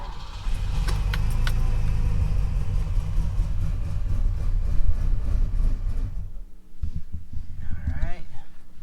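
A Ferrari engine idles steadily after a cold start, a loud low rumble that holds for several seconds, then drops away as a voice talks over the fading engine sound.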